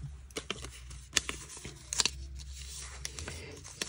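Sharp scissors snipping through the paper cover of a composition book, close and quiet, with several crisp separate cuts spread unevenly over a few seconds and no one speaking.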